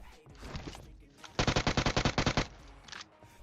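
A PUBG Mobile match with a single rapid burst of automatic gunfire, about a dozen evenly spaced loud shots in quick succession, set against quieter in-game background noise.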